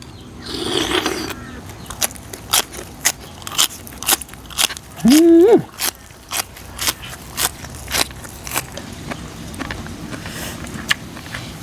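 Crisp, crunchy chewing of cuttlefish in a Thai seafood papaya salad, with sharp bites and crunches repeating at an uneven pace. A brief voice is heard midway.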